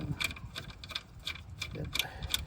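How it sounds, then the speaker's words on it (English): A ratchet loosens 10 mm alternator bolts on a Lexus GX470, giving quick, close, faint clicking in uneven bursts. "I'm loosening the 10 mm bolts now"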